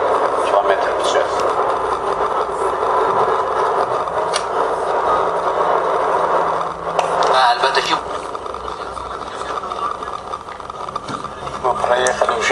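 A car cruises at 80 km/h on a road near Baku, its engine and road noise forming a steady, loud interior drone throughout while someone talks over it.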